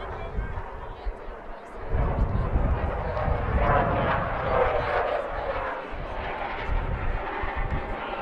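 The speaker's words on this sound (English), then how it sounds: "we've got one more fighter jet coming overhead at Rosser Field behind us." A fighter jet roars overhead at a baseball field during a playoff game, a broad, sustained rumble that swells and holds for several seconds beneath a commentator's voice.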